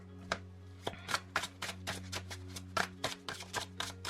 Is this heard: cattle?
no